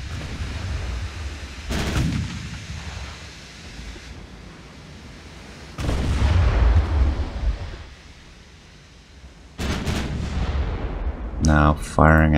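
Naval guns in Ultimate Admiral: Dreadnoughts fire high explosive shells, four heavy booms spaced a few seconds apart, each trailing off into a deep rumble over a steady sea-like wash.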